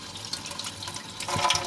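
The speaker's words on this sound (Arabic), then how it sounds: "انا هشطفه بميه دافيه تاني" Warm tap water runs over a frozen mullet fish being rinsed in a kitchen sink, a close, steady splashing stream that grows louder and busier near the end, with no talk.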